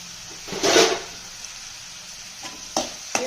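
Onion and tomato softening in a pan over a medium flame, a low sizzle broken by a few brief stirring scrapes and light clinks, close by and fairly quiet.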